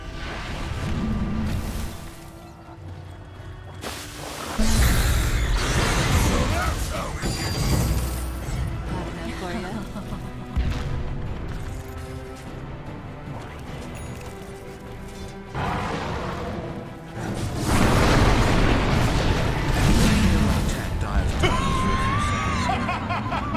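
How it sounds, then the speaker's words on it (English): Shattering and crashing bursts as a tower is destroyed in the video game Dota 2, several loud impacts rising over game effects and music, with voices briefly heard. "Dire's top tower is destroyed."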